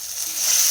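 Whole spices and three bay leaves fry in hot mustard oil for a ghugni base, giving a steady close sizzle that grows slightly louder, with no talking.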